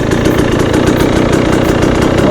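A KTM 300 XCW TPI two-stroke dirt bike, fitted with a fuel injector relocation kit, idles steadily after being warmed up, its close, loud, even burble holding throughout with no voices.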